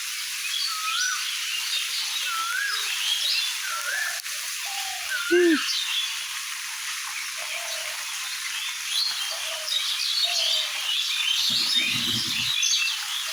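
Birds chirp and call intermittently from the trees over a steady, rain-like hiss.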